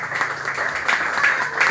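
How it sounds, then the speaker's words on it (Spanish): Congregation at a Christian preaching service applauding, a steady broadband wash of clapping with slight surges, continuous throughout and moderately loud. "Den un aplauso al Rey de Reyes"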